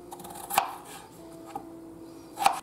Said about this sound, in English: I'll cut in a bite size